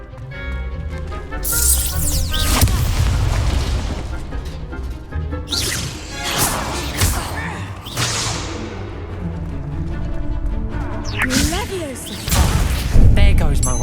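Confringo fire spell cast in the Hogwarts Legacy video game, heard as bursts of crashing explosions and whooshes among other combat effects and game music, with a player talking over the action.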